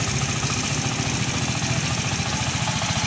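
A Vespa GTS 150 scooter with a 150 cc engine idles smoothly and steadily up close, producing a continuous low, even rumble with a regular pulsing beat and no voices over it.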